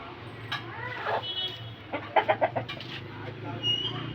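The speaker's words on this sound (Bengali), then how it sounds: "এটা হলো এখানকার লড়াই মোরগ।" Aseel fighting rooster in a home garden, giving a few short clucks and throaty calls in a quick burst, moderately close, with faint background noise and brief human voice sounds around it.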